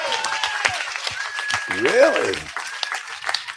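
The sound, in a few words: audience applause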